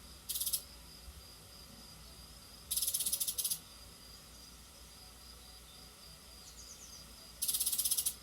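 Cricket chirps from a sound-effect library come in three brief, bright bursts over a faint, quiet background, with long gaps between them.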